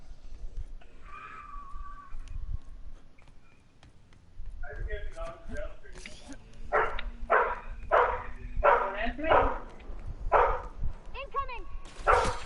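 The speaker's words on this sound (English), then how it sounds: "he taught her to bark when she wants food. And now she barks all the fucking time." A dog barks in a series of sharp, loud yips and woofs, rhythmic bursts coming close together over the second half, with people talking at times.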